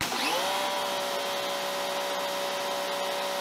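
Wholesun 3000 PSI pressure washer spraying through a 3.0 nozzle, a loud, steady motor drone with a constant tonal whine after a brief rise at the start.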